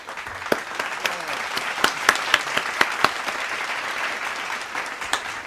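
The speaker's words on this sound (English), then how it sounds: "Play the clapping thing." A clapping sound effect plays during a live sports talk stream, a thin wash of applause punctuated by sharp, evenly spaced individual claps that stand out loud and close over about five seconds.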